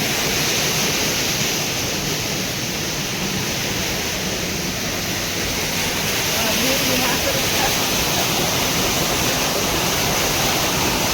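A large waterfall in the middle of a jungle pours down in a dense, steady roar of rushing water, loud and unbroken, with a voice speaking faintly beneath it.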